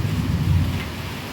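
Heavy monsoon rain falls in a dense, low rushing roar, loud and continuous over a brief stretch, with no speech.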